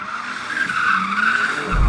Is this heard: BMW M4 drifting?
yes